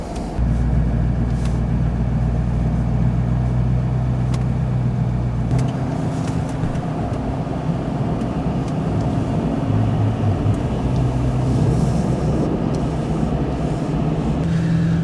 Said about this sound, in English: And now I'm just slowly going down the trail, just kind of idling it along.